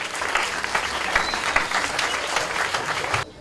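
Loud, close applause fills a private school's end-of-year celebration, with parents, pupils and guests clapping densely and evenly before the sound cuts off sharply near the end.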